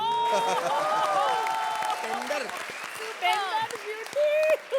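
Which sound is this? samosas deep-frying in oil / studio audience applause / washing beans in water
studio audience applause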